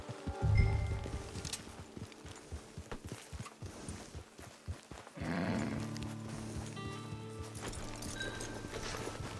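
Horse hooves clip-clop in the Red Dead Redemption 2 video game, a soft irregular walking rhythm over quiet ambience, followed by a louder stretch of game sound with faint background tones.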